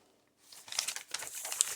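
Hand-dyed paper in a grungy nature junk journal being handled, a brief close crinkling and rustling that starts after a moment of quiet, with no talk.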